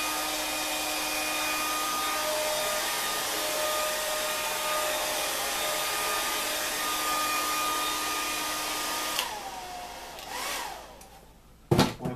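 A hair dryer blows steadily and close on freshly applied Marmorino Venetian plaster for about nine seconds, then switches off and winds down with a falling whine, followed by a few brief handling knocks.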